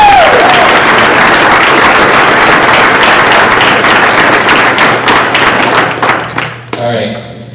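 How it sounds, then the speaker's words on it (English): An audience in a school building applauds student athletes. The dense clapping is loud at first, then thins into scattered individual claps near the end while voices murmur underneath. "if we could please offer just a quick round of applause for these young men and women"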